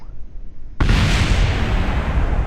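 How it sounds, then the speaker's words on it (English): Ejected rocket fuel tanks crash into the ground and blow up in Kerbal Space Program, a sudden loud blast after a quiet lead-in that becomes a sustained roaring rumble. "double explosion."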